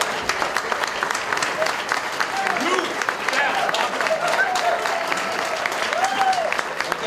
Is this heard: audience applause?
yes